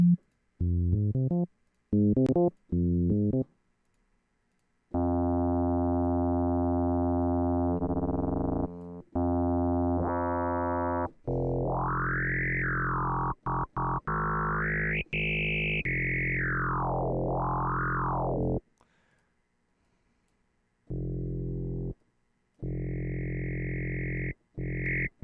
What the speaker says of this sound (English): the one on the right is going to sound just like a sine wave because it's parallel.